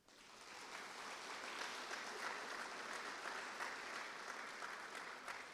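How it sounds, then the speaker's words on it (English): Sustained applause from an audience at a community awards ceremony honoring a marching band parent association scholarship recipient, steady and full throughout with no voices over it. "we wanted to make sure that we applauded him and his achievements this evening"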